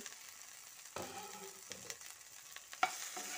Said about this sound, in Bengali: মাঝে মাঝে নেড়ে দিয়ে ভেন্ডিটা এইভাবে ভেজে নিতে হবে।